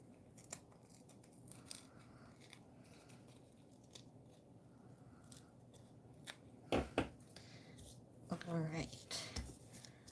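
Paper edges ripped by hand in two short, close tearing bursts, a brief one followed by a longer ragged one, over faint room noise and quiet background speech.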